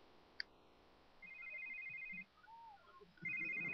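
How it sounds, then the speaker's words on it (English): A phone rings in The Sims 3 Island Paradise video game: two electronic ring bursts, each about a second long, with a short gap between them. The rings are fairly faint over soft background game ambience, and one brief click comes before. "your phone is ringing"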